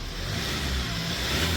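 A 2019 Hyundai Porter II Super Cap one-ton truck's Euro 6 diesel engine restarting, then running at a steady low rumble, idling with a slight rise in revs and no knocking, close and continuous throughout.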